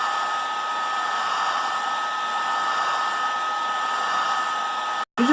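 Heat gun blowing steadily on EVA foam for a cosplay chest plate, a continuous loud airy whoosh with a faint tonal whine, cutting out abruptly near the end.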